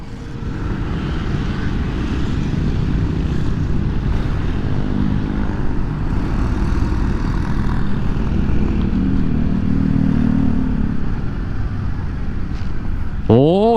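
Yamaha XMAX, Forza and other big bikes on a morning road heard from a moving rider: a continuous loud rush of engine and wind noise, with a brief rising whine at the very end.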